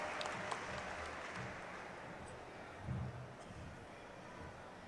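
At an oath-taking ceremony in Raipur, an audience applauds to welcome a speaker, a faint, distant, sustained patter of many hands that swells briefly near the end.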